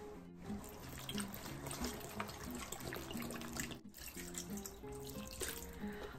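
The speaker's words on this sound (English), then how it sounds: "now we're gonna add water to cover up the shrimp." Tap water runs steadily into a pot of shrimp for shrimp soup, a continuous close splashing stream with a brief break partway through.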